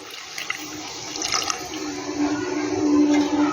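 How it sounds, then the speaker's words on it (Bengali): Lukewarm water being poured into a pot of fish curry, heard as a steady close splashing pour that grows slightly louder toward the end. "এবার আমি এখানে জলটা দিয়ে দেবো আমি জলটা কিন্তু হালকা গরম করে নিয়েছি"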